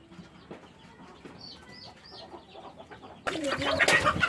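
A hen that hatched ducklings clucks and peeps softly in a rural Bengali village setting, then a louder burst of rustling and clucking close by at the end.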